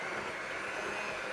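An electric mixer beating softened butter with sugar, a brief, steady, close motor whir with a dense even hum and no pauses or voices.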